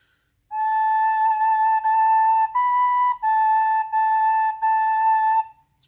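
Recorder playing a short phrase of sustained notes, A then B then A, clear and steady with brief breaks between notes, solo with no talking.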